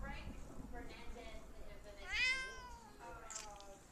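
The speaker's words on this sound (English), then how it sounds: "Meows and yawns at the same time." A cat gives a drawn-out, yawning meow midway through, followed by a shorter meow, with soft background noise and faint talk throughout.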